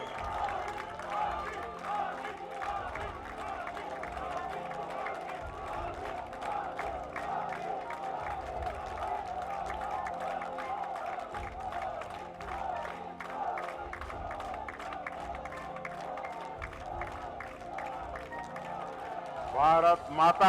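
A large crowd of BJP workers at the party headquarters applauds and cheers for Prime Minister Narendra Modi, a sustained wash of clapping beneath someone speaking over a loudspeaker, swelling briefly at the end.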